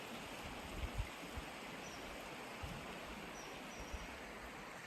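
A river flows steadily near a campground in the Bitterroot Wilderness, a faint, even rushing wash of water with occasional soft low thumps, heard alone without voices.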